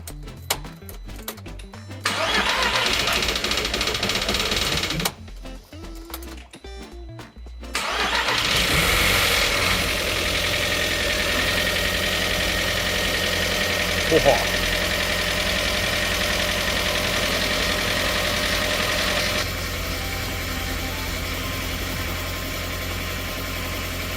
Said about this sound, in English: I'm so happy that the engine's now running